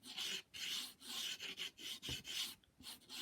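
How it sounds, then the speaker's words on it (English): Sandpaper rubbed over a paper painting surface in steady back-and-forth strokes, a close, dry rasp repeating about twice per second with brief pauses and no talking. "we're using the sandpaper at the moment."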